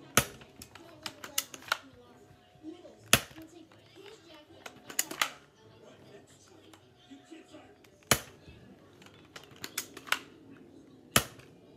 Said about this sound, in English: let's test fire this thing. Although it has no bullets in it.